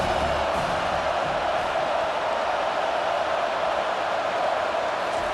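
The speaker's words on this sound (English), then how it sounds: "this crowd is turning it up a notch" Stadium crowd in the EA Sports College Football 25 video game, a dense continuous roar of cheering fans that stays loud and steady throughout.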